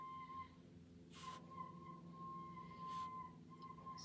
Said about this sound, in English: Some happy whistling going on.